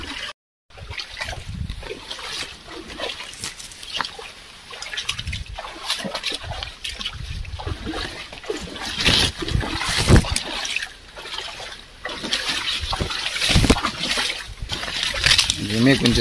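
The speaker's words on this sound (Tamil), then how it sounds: "நம்ம வாழைக்கு தண்ணி பாஞ்சிக்கிட்டு இருக்கு" Irrigation water runs and trickles into a banana field, with steady splashing and sloshing throughout as voices talk over it close by.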